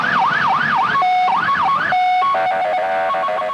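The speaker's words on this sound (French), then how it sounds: "Le chauffeur a eu beau faire hurler sa sirène" An emergency vehicle siren wails loudly and up close in rush-hour traffic in Montreal, sweeping up and down, then switching to shorter steady tones, with no voices over it.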